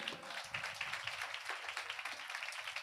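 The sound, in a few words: congregation clapping in church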